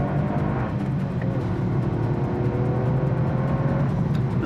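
Engine of a 2021 Toyota GR Yaris hot hatch droning steadily under load, a continuous close rumble with a slowly rising pitch and no voices.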